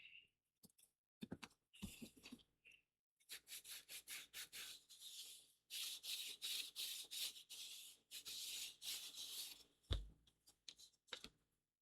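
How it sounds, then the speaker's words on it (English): Sandpaper rubbing on an aircraft elevator part for a P.68 Victor, in repeated short strokes, some quick and bursty, others longer, close and fairly quiet with brief pauses between passes. "Then just kind of sand it down a little bit."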